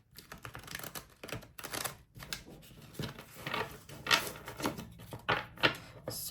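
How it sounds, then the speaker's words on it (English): A deck of tarot cards is shuffled during a pick-a-card reading, giving steady, close rapid clicking and riffling bursts that repeat for several seconds with no talking. "So I'm just shuffling the cards."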